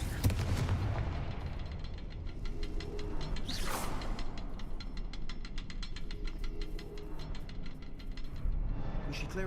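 Spell explosions from the Confringo fire curse in Hogwarts Legacy ring out amid dense game combat: a steady run of sharp crackling blasts and mechanical clatter over a continuous rumbling bed, with one brighter burst near the middle.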